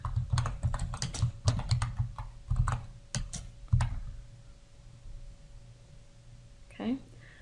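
A computer keyboard clatters as a folder name is typed in bursts of rapid, close keystrokes that stop midway and give way to quiet, with a brief voice sound near the end.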